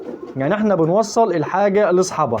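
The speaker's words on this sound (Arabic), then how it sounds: "هو ده الحمام الزاجل الاصيل" A homing pigeon coos in soft rolling, warbling phrases, close and clear, with someone talking over the calls throughout.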